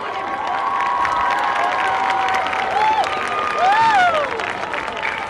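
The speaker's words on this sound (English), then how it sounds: "how about another round of applause for the whole homecoming court?" A football stadium crowd applauds and cheers for the homecoming court, a broad steady wash of clapping with shouts and high whoops rising over it.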